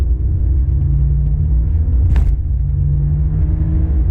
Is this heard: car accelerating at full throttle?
yes